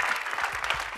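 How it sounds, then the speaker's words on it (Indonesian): Studio audience at an Indonesian TV entertainment show breaks into steady, dense applause, a brief, even wash of clapping with no voices over it. "Ya, tepuk tangannya dong sayang cakep."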